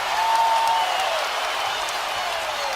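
A basketball arena crowd at the 2014 NBA Finals between the Heat and Spurs roars and applauds in a steady, dense wash of noise with a whistle-like tone through it.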